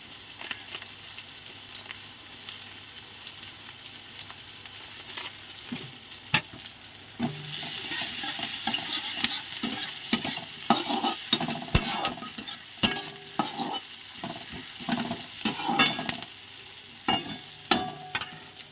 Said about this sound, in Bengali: পেঁয়াজগুলো ভাজা হোক, তারপর আলু আর বেগুনটা দেবো।